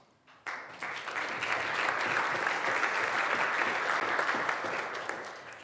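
Applause from the crowd at a university course kickoff event starts abruptly after a brief quiet moment, then holds as an even, full wash of many clapping hands until the end.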